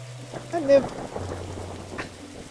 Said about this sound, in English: Every time I bring a book back, I end up on the roof in the rain.